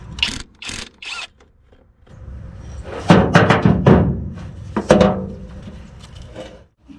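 Ratchet working on a truck's starter bolt: a few short clicking bursts at first, then longer runs of rapid ratcheting and metallic rubbing, close and fairly loud.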